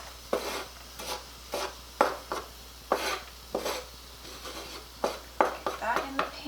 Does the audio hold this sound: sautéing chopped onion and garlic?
yes